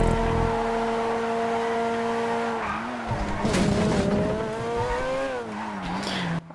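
A Karmann Ghia sports car in a racing video game revs loudly and steadily, engine tones rising and falling through gear changes, with tire squeal and skidding during turns, no voices present.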